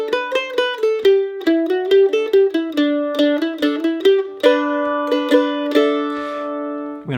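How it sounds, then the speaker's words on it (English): A mandolin picks a tune in G as straight, even eighth notes, each note crisply plucked with a ringing tone, played alone and close. "If we're going to play this straight, so basically the 8th note to played straight would sound like this."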